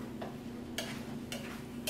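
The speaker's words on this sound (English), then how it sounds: "I'm gonna go ahead and give that a toss." A spoon stirs creamy whiting pot pie filling in a pan, giving three soft scraping strokes spaced roughly half a second apart over a faint steady hum, quiet and with no talking.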